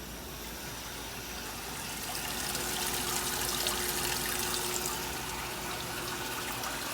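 Water rushing and splashing into the tub of a Maytag washing machine with an agitator, a steady hissing gush that swells slightly midway and continues without talk.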